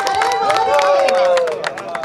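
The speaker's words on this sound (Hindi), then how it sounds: "जोरदार तालियों से स्वागत कीजिए रवि किशन जी का" Crowd noise at a Bhojpuri film industry cricket league event as actor Ravi Kishan is welcomed, a dense wash of clapping and cheering that stays loud and steady throughout, with announcer-like tones riding over it.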